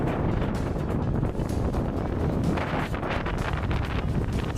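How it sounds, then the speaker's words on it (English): Strong wind on Pen-y-Ghent buffets the microphone in a continuous, loud rumble with gusty surges and no voices. "a little bit windy out here"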